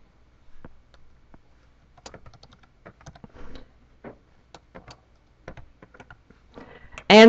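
Computer keyboard typing at a login screen, entering a username: scattered key clicks in short irregular bursts, fairly close and moderately quiet, with no talk over them and a sharp louder tone at the very end.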